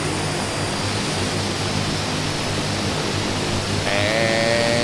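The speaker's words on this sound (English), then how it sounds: "this airplane will start to pick up speed as you taxi out" A steady, loud airplane engine roar fills a flight simulator as the plane taxis on a Caribbean airfield, a dense broadband drone with a faint rising whine entering near the end.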